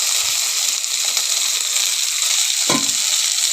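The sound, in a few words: onions and brinjal sautéing in a pan for chutney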